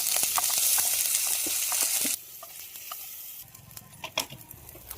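Loud, steady sizzling of a spice paste frying in hot oil, dropping quieter partway through, with scattered scraping and stirring noises.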